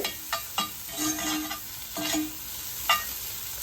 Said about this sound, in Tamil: இதெல்லாம் வந்து லைட்டாக நம்மளுக்கு வதங்கி வந்தால் போதும்.